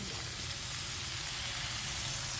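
Vegetables dropped into a hot pan in a Filipino home kitchen, giving a steady, close sizzle and hiss of frying that holds evenly throughout with no talking.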